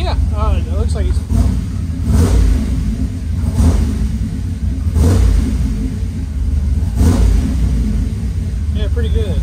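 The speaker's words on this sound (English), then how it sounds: "It felt fairly crisp on just like a free rev." A car engine free revving after fuel system work, several distinct rev bursts rising and falling over a steady idle rumble, close, with someone talking throughout.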